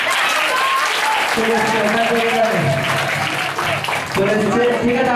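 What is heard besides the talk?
audience applause at a cultural programme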